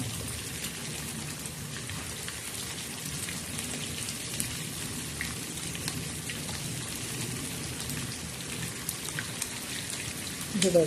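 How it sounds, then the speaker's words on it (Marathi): Steady rain falls on a surface, an even hiss of many drops throughout, fairly soft with no voices. "पाऊस पडत आहे"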